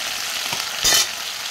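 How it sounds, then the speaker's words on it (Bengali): Curry with chili powder, turmeric and meat masala sizzling steadily in a pan while being stirred, with one louder burst of frying near the end and no talk. "লঙ্কা গুঁড়ো ভালো করে নেড়ে নিলাম।"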